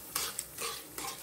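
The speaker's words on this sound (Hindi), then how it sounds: "2 मिनट के लिए चलाएंगे।" Bottle gourd halwa with sugar is stirred in a pan with a spoon, making three close, soft scraping strokes over a faint sizzle. No one speaks.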